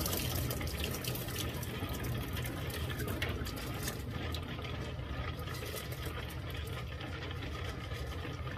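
Continuous stream of water splashing and draining through a strainer held over the mouth of a Lot-O rock tumbler barrel, steady and close throughout, no talking.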